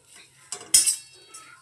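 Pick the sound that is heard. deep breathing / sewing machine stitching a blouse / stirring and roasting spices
stirring and roasting spices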